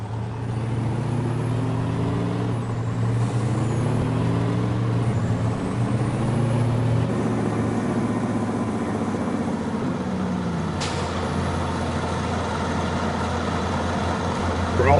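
A truck engine idling in Farming Simulator, a steady low rumble with a brief sharp hiss partway through.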